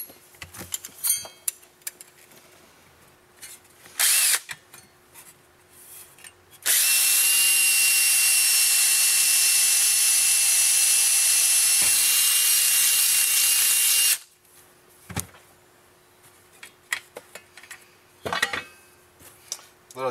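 Power drill driving self-tapping screws into sheet metal while building a two-way camera dolly: one loud, steady whine runs unbroken for about seven seconds, with brief clicks and handling noises before and after.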